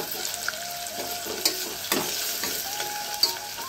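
A pigeon pea pod and rice mixture is stirred in a hot pan with a close, steady sizzle and a few distinct scrapes and clinks of the spoon against the pan.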